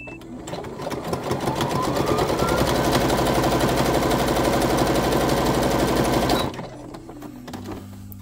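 A domestic sewing machine stitching a test seam after rethreading, running in a fast steady mechanical whir for about six seconds before stopping abruptly, close and loud with no talking.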